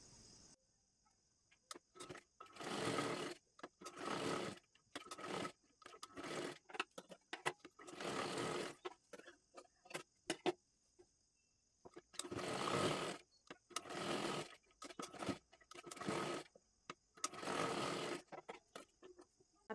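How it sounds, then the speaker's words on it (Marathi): A sewing machine stitching a double seam on sari fabric, running in repeated bursts of a second or two separated by brief pauses, close and clear with no talking. "आणि डबल शिलाई मारून घ्यायची आहे।"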